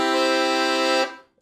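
A Black Excelsior Accordiana Slimline LM 120 accordion sounds a single sustained note on its treble bassoon reed register, a rich, buzzy tone held for about a second before stopping, with a short voice starting right after.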